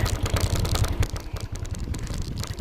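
A motorcycle engine running after being started, a steady close rumbling idle with rapid clattering pulses, loud and continuous with no talking.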